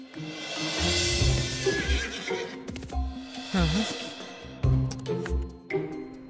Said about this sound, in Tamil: இந்த குதிரை இந்த செவரை எவ்வளவு ஈஸியா தாண்டுதுன்னு அதுவும் யோசிக்கவே இல்ல.